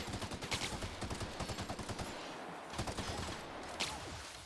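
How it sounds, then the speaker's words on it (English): Rapid gunfire in the video game The Outer Worlds, bursts of repeated shots in quick succession with a couple of louder reports, fairly quiet overall with no talking. "I was shooting all that and I was missing"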